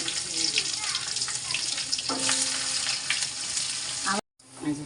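Chopped onion and garlic frying in a pan give off a constant loud hiss and crackle with some clatter. The sound cuts out briefly near the end and then resumes.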